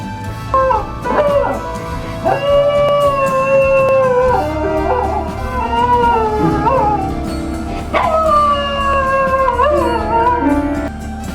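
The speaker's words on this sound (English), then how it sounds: "The dog is playing the piano. If the note is heavy, he sings while he plays." Dog howling and yipping while pressing piano keys, sustained wavering howls rising and falling in pitch over low, heavy piano notes, close and loud, in several drawn-out bursts.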